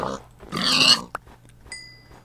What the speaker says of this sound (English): Oh, piggies.